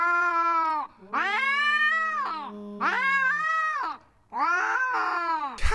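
Cats meow and caterwaul in long, drawn-out, wavering yowls from a played video, four loud cries in a row separated by brief pauses.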